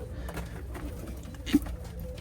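Large pigeons coo softly in a loft, a low, continuous murmur with one slightly louder call standing out and no talk.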